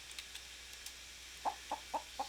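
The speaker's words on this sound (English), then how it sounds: "There's a chicken." A chicken in the Rising World video game gives four short, evenly spaced clucks, faint against a low steady background hiss.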